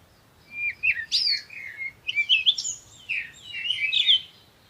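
Bird chirping in an animated Hindi folk tale about a king turned into a bird: bright, repeated tweets and short trills in three bursts, close and clear over a faint low background, no talking.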